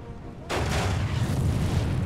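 Artillery fires on a Civil War strategy battlefield, one deep boom after a short lull, then a sustained rumbling roar fading slowly.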